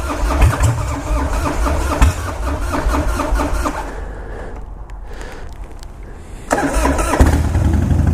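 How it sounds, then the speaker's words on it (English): A carbureted 2005 Harley-Davidson Wide Glide motorcycle with 67,000 miles is cold-started, its engine rumbling loudly and steadily nearby, dipping briefly mid-clip before roaring back up. "Spike is carbureted, and it does fire up really good."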